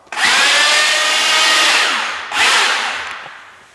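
An electric drill mixer stirs Contego intumescent coating in a bucket, a loud close whirring roar in two bursts, the first long and steady, the second shorter and winding down.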